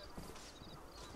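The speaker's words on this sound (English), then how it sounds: "let me call my horse" A horse in the Red Dead Redemption video game arrives when called, its hooves clip-clopping steadily through a dense bed of game ambience and noise.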